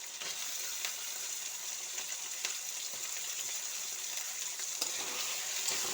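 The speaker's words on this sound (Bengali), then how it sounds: "টমেটোটা দিয়েও আবার কিছুক্ষণ আমি কষিয়ে নেব।" Tomato sautéing in fried spice paste for a small live tilapia and tender coconut dish, giving a steady close sizzle and crackle with occasional stirring scrapes, and no voices over it.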